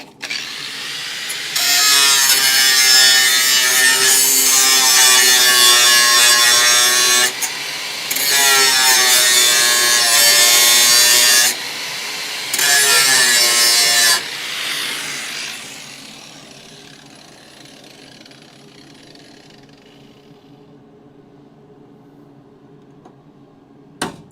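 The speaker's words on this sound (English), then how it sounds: "Still one other spot weld there. Grinding time." An angle grinder grinds out a spot weld on a car's floor pan, loud and close in three long bursts with short pauses, then the disc winds down to quiet.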